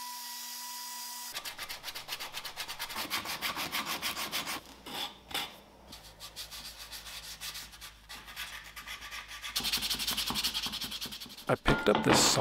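Sanding a carved wooden bull sculpture made from a patterned block, a continuous close scratchy rubbing with uneven strokes and brief pauses, growing louder toward the end.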